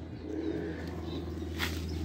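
Pigeons coo softly in a rooftop loft, low rounded calls repeating steadily at a moderate distance, with no talking over them.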